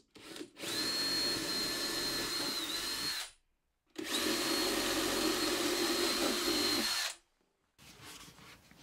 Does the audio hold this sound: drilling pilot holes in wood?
yes